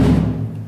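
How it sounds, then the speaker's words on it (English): A single stroke on the lowest-pitched tonal bass drum, a deep resonant boom already sounding that decays steadily over under a second, heard alone and close. "Now, bass drum number 1, the pitch is the lowest, and it sounds like"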